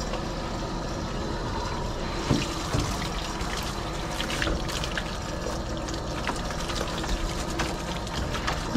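Running water splashing steadily during a grooming bath while rinsing an underweight husky's face, a continuous close wash with small splashes and no talk.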